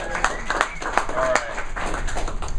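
An audience claps and applauds, a burst of overlapping hand claps with a voice speaking over it.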